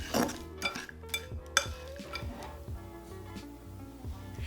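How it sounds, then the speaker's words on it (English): Cookie dough studded with vegan chocolate chips is mixed in a bowl, giving soft scraping and clinking of a utensil against the dish under a steady hum of background music. "Add your vegan chocolate chips and mix again"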